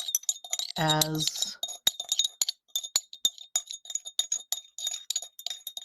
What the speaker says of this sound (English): I have a stirring rod that I can stir my salt with